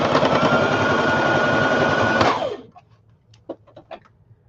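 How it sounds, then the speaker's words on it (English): A sewing machine runs a fast, steady stitch through a paper banner for about two seconds, then winds down, followed by a few light clicks and taps. "let me run this through my sewing machine super fast"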